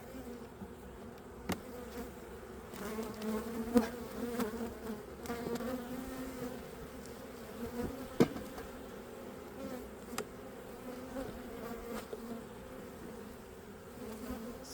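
Dense, steady hum of honeybees swarming around an open beehive during an inspection of a hive overwintering two queens, with occasional soft knocks of frames and tools over the continuous drone.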